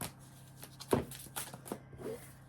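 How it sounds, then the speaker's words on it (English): Close, quiet riffling and slapping of a tarot card deck being shuffled in several quick irregular bursts, with soft papery flutters between them. "Couple more shuffles."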